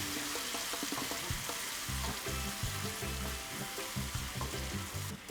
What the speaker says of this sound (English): just drop in the marinated paneer right into the pan. Just give it a quick stir.